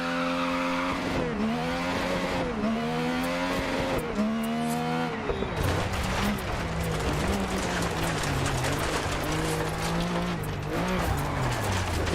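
A rally car does practice laps, its engine rising and falling through gear changes close by, with tyre squeal and skidding as it takes corners, loud and continuous.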